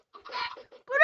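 Short bursts of a Minecraft chicken clucking, a few quick chirpy clucks followed by a louder rising squawk, close and alone.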